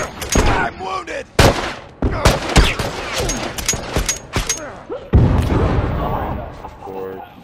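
Gunfire in a multiplayer match of The Last of Us: sharp, loud shots and short bursts crack out irregularly through the clip, with excited voices talking between and over them.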